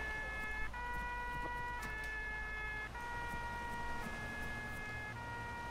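A fire truck siren in the video game Arma 3 wails in stepped alternating tones over a low engine rumble, steady and moderately distant with no talk.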